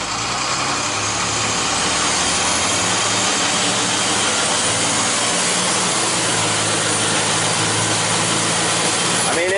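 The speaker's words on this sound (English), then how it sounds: "we're going to try a full pedal to the floor takeoff" A vehicle pulls away from a standstill at full throttle, its engine roaring loud, steady and close for the whole stretch, a broad droning whine that slowly climbs, with no talk over it.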